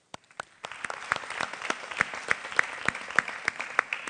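An audience at an environmental forum in Tijuana claps, starting with a few scattered hand claps and building into sustained applause marked by sharp individual claps.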